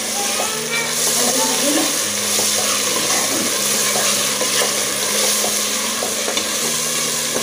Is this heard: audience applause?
no